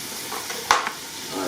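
Tomato tipped into a sizzling clay pot of chuño and white corn soup base while being stirred, giving a sharp close scrape-and-splash burst over a steady frying hiss.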